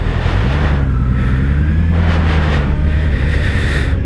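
A car drives steadily along a road with a continuous, loud engine and tyre drone and no break in the noise.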